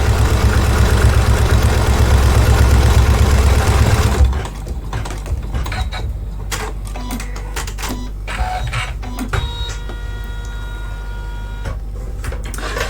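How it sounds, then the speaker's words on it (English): Embroidery machine stitching a design in the hoop for a zippered pouch, a loud steady mechanical whir that abruptly drops to a quieter rhythmic clatter of needle strokes with faint ticks, running on without speech. "And we'll stitch colorway 5 to hold that in place."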